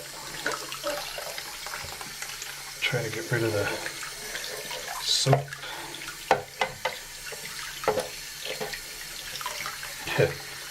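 Warm tap water runs steadily from a faucet into a sink while parts of an AMT U.S.S. Enterprise model kit are rinsed of soap after 800-grit sanding, with someone talking over the flow and occasional clatters.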